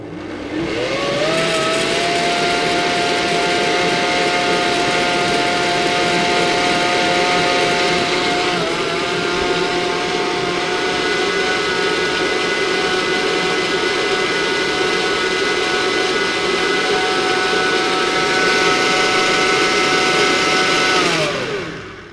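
A blender runs continuously at high speed as it purees carrot and cumin soup, a loud, steady whirring drone that holds for about twenty seconds with a slight dip in pitch partway through, then cuts off abruptly, with no talking.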